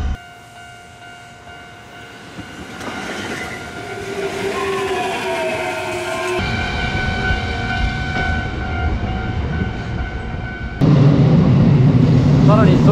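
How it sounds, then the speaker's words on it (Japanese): A Kintetsu electric train passes nearby, its motors whining in rising tones over a growing rumble, then a louder rattling roar as cars go by. "これは近鉄電車です。"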